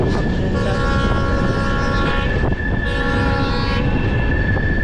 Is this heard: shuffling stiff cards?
no